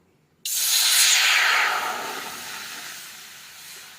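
Water poured into a hot pan while cooking pointed gourd bursts into a sudden loud sizzle and steam hiss after a short silence, then slowly fades but keeps hissing to the end.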